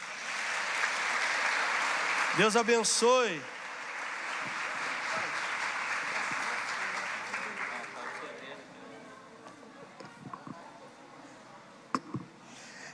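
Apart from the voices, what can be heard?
applause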